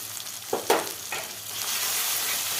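Kashmiri chili powder, turmeric and a pinch of sugar fry in hot oil in a pan, a steady close sizzle broken by a few sharp scrapes and clatters as the spices are stirred.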